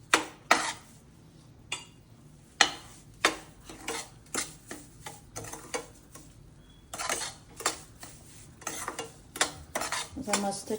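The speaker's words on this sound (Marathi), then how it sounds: "या तुपामध्ये मी काजू घालत आहे. आपल्याला चांगला काजू फ्राय करून घ्यायचे." Cashews frying in ghee for suji halwa, stirred with a metal spoon: repeated sharp clinks and scrapes against the pan over a soft sizzle, close and uneven in rhythm, with no voices.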